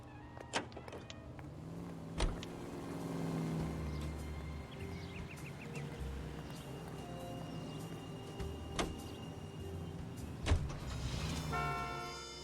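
A car drives in the video game LA Noire, its engine droning steadily under the game's background sounds, with a few sharp clicks and thumps and a short rising tonal sweep near the end.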